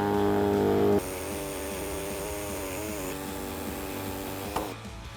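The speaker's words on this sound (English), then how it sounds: "I'm just going to use this pneumatic body saw and cut along this trim line." A pneumatic body saw cuts along the trim line of a 2011-2018 Jeep Wrangler JK dash panel, a steady buzzing drone that runs close and loud for several seconds before stopping abruptly near the end.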